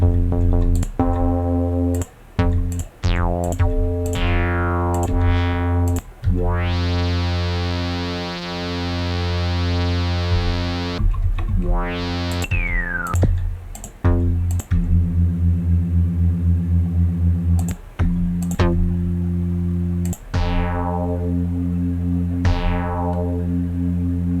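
A gnarly synthesizer patch built in Energy XT plays a long sustained note with strong harmonics, surrounded by repeated short clicks and rising pitch sweeps that shift over time, loud and electronic with no talk.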